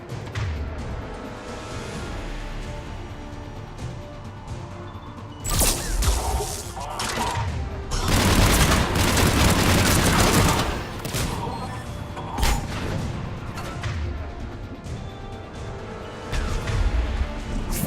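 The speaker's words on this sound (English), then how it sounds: "Enemy on the mounted gun! Gotta get him off that gun!" Battle noise from Mass Effect 3 with an enemy firing a mounted gun, heard as dense bursts of loud gunfire and crashing impacts in close, repeated volleys with brief lulls between them.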